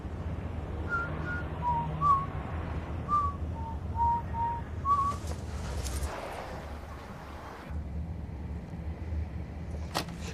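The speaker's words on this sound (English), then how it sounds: "He starts whistling." A man whistles a short, wandering tune of separate notes over a low rumble, followed by rustling and a sharp click.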